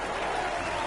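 A brief burst of steady clapping from a small crowd applauding a golf shot, dense and even for under a second.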